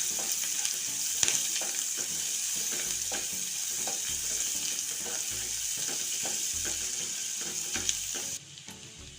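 Cinnamon, bay leaf, grated ginger-garlic and chopped green chilli sizzle steadily in a hot pan for cashew curry, a dense continuous frying hiss with occasional stirring clicks and no talk.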